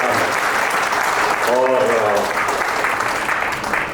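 Audience applause at a book launch event, steady and fairly loud for the whole stretch, with a voice briefly speaking over it.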